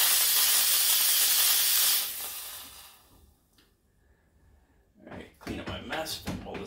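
A loud, steady hiss of steam blasts from an ECM Mechanika V Slim espresso machine steam wand being purged for about two seconds, then cuts off, followed by quiet clatter and a voice speaking.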